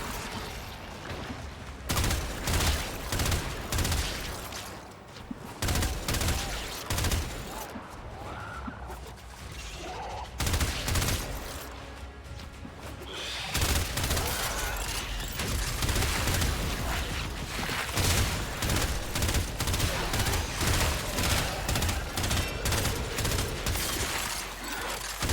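Dense gunfire from the Warframe video game, a near-continuous barrage of rapid shots and bursts running throughout with brief lulls, loud and busy with mechanical clatter layered in.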